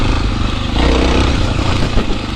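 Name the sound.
Suzuki DR650 motorcycle chugging up rocky trail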